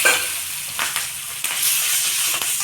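Native chillies frying in a pan, a steady close sizzle with a few sharp crackling pops scattered through it and no voices.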